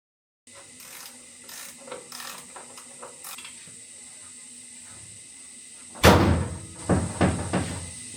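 An old truck's door latch works through several light metallic clicks and rattles, then the door shuts with a loud slam followed by more knocks and clunks.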